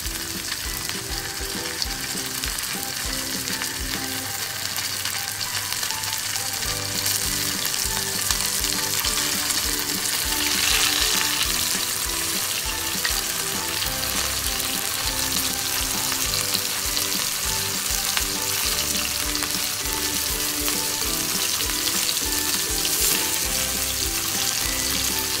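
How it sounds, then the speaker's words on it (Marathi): Rava-coated mackerel (bangda) fries on a hot tawa, a loud, continuous crackling sizzle that holds steady throughout with no talking. "बांगड्याला पहिल्यांदा रव्यामध्ये असं चांगलं घोलून घेणार आहोत आणि मस्त असं तव्यामध्ये फ्राय करून घेणार आहोत"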